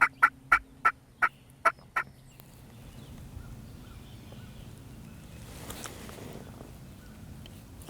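A wild Georgia turkey gobbler lets out a rapid string of about seven sharp, close gobbles, then the woods settle into a faint low rumble of background noise.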